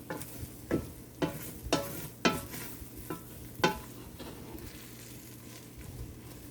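Eggs scrambling in a pot for shrimp fried rice, with a low steady sizzle under a series of distinct spatula scrapes and stirs about every half second, which thin out toward the end.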